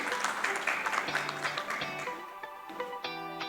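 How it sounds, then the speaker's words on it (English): An audience at a healthcare forum on hospital safety applauds a welcomed doctor, a brief burst of clapping that tapers while a voice and tonal sounds carry on over it. "Can we give her up a big applause?"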